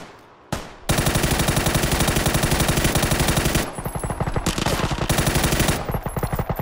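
Sustained automatic gunfire in the battle royale game PUBG, loud rapid bursts of machine-gun shots running almost continuously after a short pause at the start, with brief gaps near the end.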